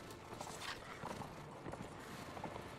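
Horse hooves clip-clopping in Mount and Blade Warband, a steady quiet run of hoofbeats over a muffled game ambience with no talk.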